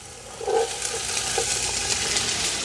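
Onions, carrots and celery for a Bolognese sofrito fry in a pan with a steady, close sizzling hiss that runs the whole time, plus a brief louder stir or toss near the start.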